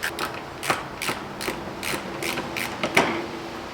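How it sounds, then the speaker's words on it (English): A hand ratchet clicks in quick, irregular bursts while loosening bolts on a Nissan GT-R engine in a two-car garage, the sharp pawl ticks close and fairly loud with short pauses between turns. "I could get a ratchet on this"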